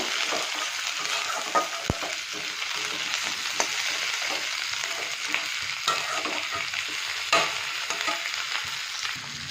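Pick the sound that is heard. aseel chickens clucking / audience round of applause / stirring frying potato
stirring frying potato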